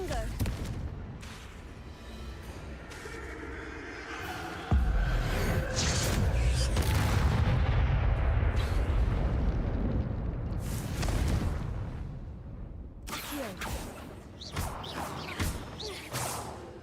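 Confringo spell blasts in Hogwarts Legacy, a run of whooshing, crashing explosions with a heavy, sustained rumble through the middle, mixed with game effects and speech.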